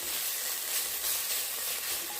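Dried pollack (hwangtae) stir-fries in a little oil over medium heat, giving a close, continuous bright sizzle and hiss with no voices.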